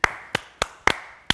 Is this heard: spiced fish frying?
no